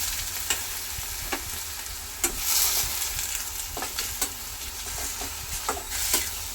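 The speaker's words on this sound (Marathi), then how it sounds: "अशा प्रकारे तेलावर ही कोथिंबीर व्यवस्थित परतायची आहे" Fresh coriander leaves being sautéed in oil over very low heat for kothimbir wadi give a soft background sizzle, broken by repeated sharp scraping stirs of a spoon against the pan.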